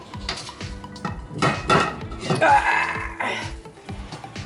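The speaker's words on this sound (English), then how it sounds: "here we have a quick stir fry" A quick stir fry with garlic, chili, coriander seed, cumin and salt clatters in a pan. A utensil clinks and scrapes repeatedly against the metal, and faint voices and a brief laugh come through in the background.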